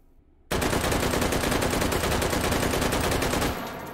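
An H&K G36C carbine fitted with a muzzle brake fires a loud, rapid continuous burst in the video game H3VR, lasting about three seconds before stopping and trailing off, with no talk.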